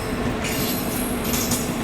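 A train passes on a parallel track, hauled by a WAG-9 pulling a WAP-7, seen from the Purushottam Express sleeper class. It gives a loud, steady rumble of wheels and carriages with a constant low hum throughout.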